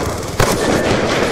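An explosive detonating during a Black Ops 2 multiplayer match, a loud broadband burst that swells at once and rolls on as dense, sustained rumbling noise across the whole short clip, with no talk over it.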